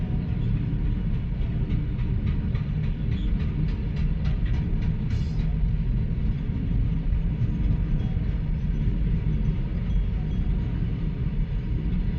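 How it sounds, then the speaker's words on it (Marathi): A freight train rumbles past a closed level crossing steadily at close range, with rhythmic wheel clatter early on and a heavy continuous roar throughout. "ट्रेन जाते आहे ट्रेनचं फाटक सकाळी सकाळी बंद झालं आहे"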